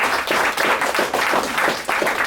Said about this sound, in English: Please applaud him for the work that he did.